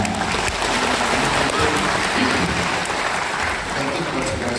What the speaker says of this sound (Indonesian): Ayo dong tepuk tangannya.